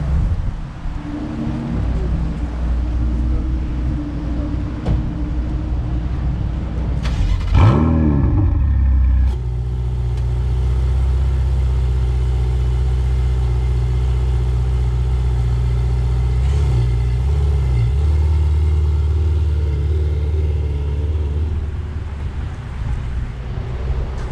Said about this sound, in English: So get a start up on video here.